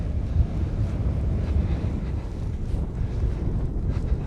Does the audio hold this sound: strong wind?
yes